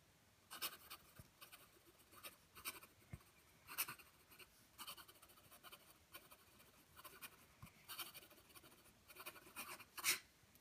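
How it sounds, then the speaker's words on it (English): A Stipula Splash fountain pen with a V-Flex nib scratches quickly across paper, a faint, close, continuous series of soft scraping strokes with brief pauses between words, no voice. "If I write quick writing sample"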